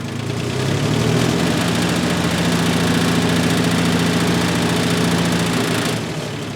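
John Deere 900HC tractor engine running steadily at raised throttle, a loud, close, continuous diesel drone with a low knocking pulse, easing slightly toward the end.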